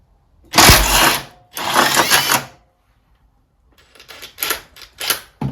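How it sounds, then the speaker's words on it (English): An impact wrench with a 3/4 socket undoing the steering quadrant nut on a 1960 Bolens Ride-a-matic tractor: two loud, sustained rattling bursts, then a series of shorter, quicker hammering pulses. "we've got a 3/4 spanner and a 3/4 socket on the impact, and we are going to undo the steering quadrant"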